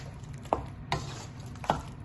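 Banana pepper chicken masala being stirred in a pan, with three separate scraping knocks of a utensil against the pan, close and moderately loud, over a low background hum.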